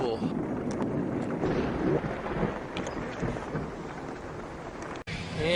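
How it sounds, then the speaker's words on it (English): Heavy rain pours down steadily on a farm, a dense, unbroken hiss with rumbling gusts of wind buffeting the microphone throughout. "And it's still raining."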